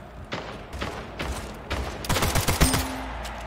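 Rapid gunfire bursts in the arena shooter Splitgate, with scattered single shots early, then a dense, loud fusillade of overlapping shots near the end.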